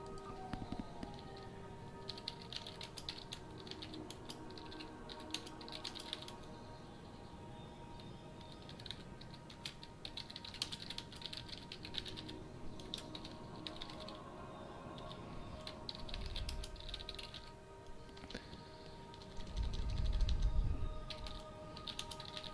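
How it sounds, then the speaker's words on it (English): Steady computer keyboard typing runs for over twenty seconds as a dense patter of quiet key clicks, with a couple of low thumps near the end and no talking. "just typing to somebody else"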